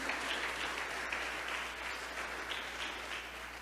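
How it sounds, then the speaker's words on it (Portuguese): A church congregation applauds during a sermon, a dense, steady wash of many hands clapping, moderately distant and sustained for the whole stretch. "aplauda bem forte a Jesus"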